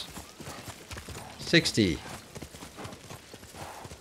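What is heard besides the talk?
horse hooves galloping in the video game Ghost of Tsushima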